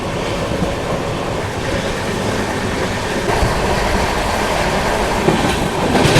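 The Jammu Tawi Express (13151) running at speed after departing Masagram station near Bardhaman, a steady loud rumble of wheels and carriage noise with rhythmic clatter heard from inside the train.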